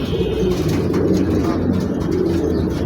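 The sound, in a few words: pigeons cooing during bath time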